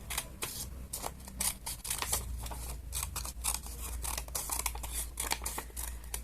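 Scissors cut through A4 paper close up in a steady run of crisp snips and rustling slices, with no voices.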